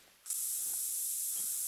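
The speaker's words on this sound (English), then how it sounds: "I'm gonna put on more scent spray." In theHunter: Call of the Wild, a can of scent spray bursts into a loud, steady hiss that starts abruptly and holds continuously, close up and alone.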